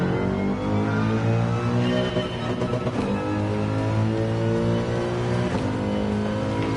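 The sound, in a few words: Corvette engine revving in Gran Turismo 7, from a video game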